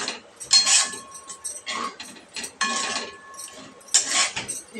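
A spoon scrapes and clinks against a pan while sabudana khichdi ingredients and green chilli paste are sautéed, in short irregular bursts of metallic scraping with brief pauses.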